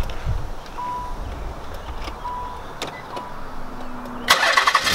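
A car engine cranks after a coil pack swap, a low steady rumble under faint background noise that bursts into a loud, rough start near the end.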